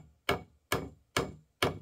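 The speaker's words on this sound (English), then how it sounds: "This 4 pound piece of mashing metal, loosely attached to this small wooden handle, is sure to get all the women's attention" A 4-pound "Convincer" sledge-style hammer with a small wooden handle strikes four times at an even pace, each a sharp close impact with a short decaying ring, separated by silence.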